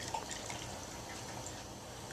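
Crème brûlée custard mixture streams through a strainer in a steady, soft liquid trickle close by, faint and continuous with no talking.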